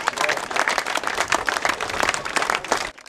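A school audience in Babayurt district applauds visiting champion athletes with dense, continuous clapping from a crowd, loud and sustained before stopping abruptly at the end.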